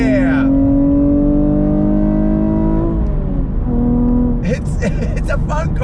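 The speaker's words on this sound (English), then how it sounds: "So 3rd gear, on throttle, here we go." A 2021 Chevrolet Camaro RS 1LE pulls hard in third gear on throttle, its engine tone rising loudly and steadily, dipping briefly at a shift, then climbing again, heard from inside the car.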